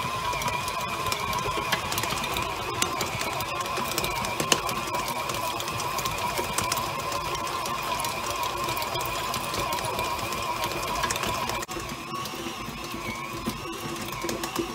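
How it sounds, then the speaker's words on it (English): A stand mixer runs steadily while kneading sourdough bread dough, giving a continuous motor whir with a rhythmic mechanical drone that stays constant and fairly loud, with no talking. "you gotta hold on to your mixer because it wants to walk all over"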